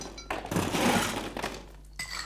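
Ice cubes tumble into a cocktail glass for a rum punch, a clattering rush of clinks and knocks followed by a few scattered settling taps.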